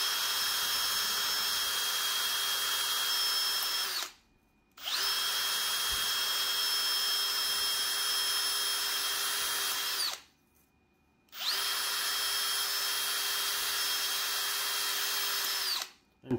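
A 2000 RPM power drill whirs steadily with a high, grinding steel wire-brush scrape against hardened grime on a BMW E46, cutting out briefly twice before starting again.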